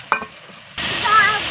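Fried onions with salt, turmeric, chili powder and ginger-garlic paste sautéing for chicken kosha: a brief quiet scrape, then a sudden, loud, continuous close-up sizzle that holds steady.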